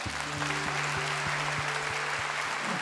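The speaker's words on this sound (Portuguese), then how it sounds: "Eu vou aplaudir ele agora, pode aplaudir." A congregation at a religious talk applauds, a steady wash of clapping over a rhythmic, pulsing musical tone in the background.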